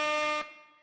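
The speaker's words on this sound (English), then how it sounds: "Oh, I lost the air horn. There it is." A loud, blaring air horn sound effect plays as a single short, harsh, buzzy blast and cuts off abruptly, leaving a brief fading tail.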